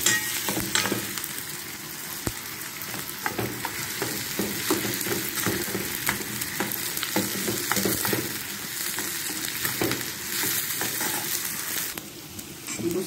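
Peppers sauté in a frying pan with a continuous crackling sizzle close up, punctuated by frequent scraping and tapping as they are stirred, with no talking.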